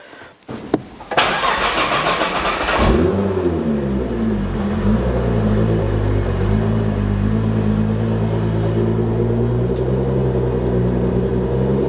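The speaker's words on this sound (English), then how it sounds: "See, it'll rev up and then it'll start fluctuating." A Nissan GTR engine cranks and fires up with a sharp burst, then settles into a loud, steady rumble with slight fluctuations in pitch.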